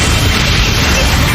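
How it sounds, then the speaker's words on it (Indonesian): Loud, dense explosions from homing missiles bursting in the air during an anime battle, a continuous booming roar filling the whole moment with no clear gaps. "Jupiter dikejar peluru kendali sampai meledak-ledak di udara."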